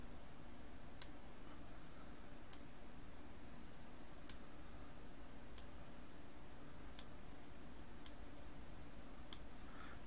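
A computer mouse gives sharp single clicks every second or so, close and isolated, against a faint steady room hiss with no voice.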